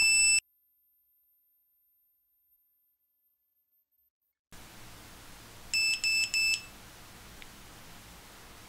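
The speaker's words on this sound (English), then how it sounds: "the buzzer goes off continuously" A flight controller buzzer on an Omnibus board in a Realacc Scops micro drone beeps during firmware flashing: one high beep, a stretch of silence, then three short, loud, evenly spaced beeps.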